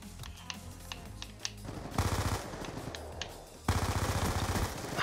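Rapid bursts of MP7 submachine gun fire in Black Ops 2, two sustained automatic volleys after scattered quieter clicks and distant shots, loud and close.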